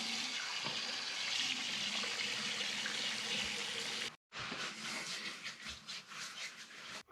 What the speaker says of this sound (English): I'm going to go ahead and wet my face,